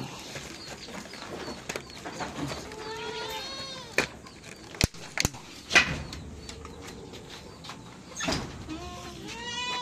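Several goats bleat in wavering, drawn-out calls at varied distances, with bird chirps and a few sharp knocks mixed in over a steady outdoor background.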